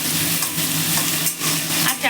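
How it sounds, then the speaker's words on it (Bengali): Potatoes frying in a pan: a dense, crackling sizzle with stirring scrapes, close and continuous for a couple of seconds. "আলুটা একটু ভাজা ভাজা হতে থাকো"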